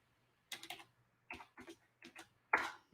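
Computer keyboard typing comes in short quiet bursts of clicky keystrokes, separated by brief pauses, close and alone with no talk.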